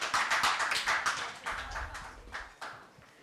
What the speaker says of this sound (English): Please welcome Ms. Mona Verma ma'am on the stage with a huge round of applause.